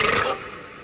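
A single loud, rough burp rasps close up and fades out over under a second, with no speech.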